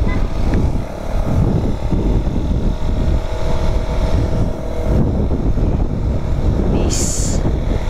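A Raider motorcycle runs with a steady, rough low engine rumble, heavily buffeted by wind noise throughout, close and loud with no clear pauses.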